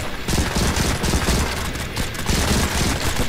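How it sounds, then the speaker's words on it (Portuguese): Sustained rapid gunfire from an online match of the mobile shooter Modern Combat 5, loud and dense with overlapping bursts throughout, no voices. "Tô atirando aqui no cara."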